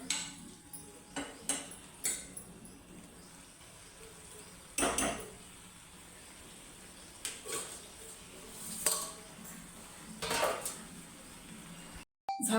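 A lid goes onto a cooking pot of simmering dry vegetable dish on a gas stove, giving a few scattered metallic clinks and clanks among quieter kitchen handling, with one sharper knock midway and no talking.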